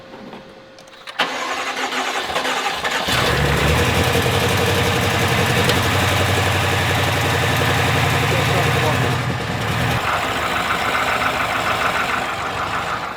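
Built twin-turbo engine of a BMW M5 F10 fires up and settles into a loud, steady idle with a deep drone and rough pulsing, close by and continuous, after a short quieter stretch at the start.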